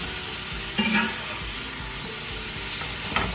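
Beef for nachos sizzles steadily in a hot pan, a continuous close frying hiss with a couple of brief stirring scrapes and clinks.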